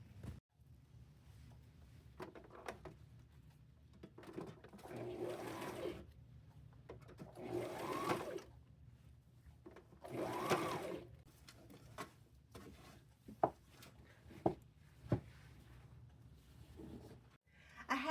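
A sewing machine stitches fabric scraps onto a lab coat in several quiet bursts of rapid mechanical whirring, separated by pauses and small handling clicks.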